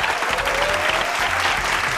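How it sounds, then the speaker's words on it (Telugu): A college audience at a game show claps loudly and continuously, a dense close wash of many hands with no pauses, and a faint voice underneath. "ఒకసారి గట్టిగా క్లాప్స్ కొట్టండి"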